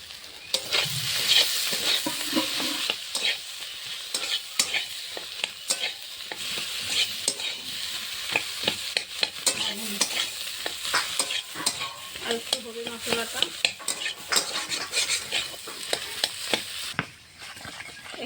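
Potatoes and prawns frying in a pan with garam masala, coriander and cumin powder: constant scraping and stirring strokes of a spatula over a quiet sizzle, fairly close and irregular throughout.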